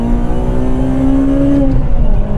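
A Honda FD2 Civic Type R four-cylinder engine revs hard from inside the car, a loud, steady high-pitched whine climbing slowly before easing off, with road rumble beneath.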